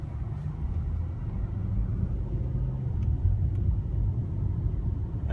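A 2016 BMW 740i accelerating in sport mode, heard from inside the cabin as a steady low engine rumble and road drone, fairly loud and even throughout, with no talking.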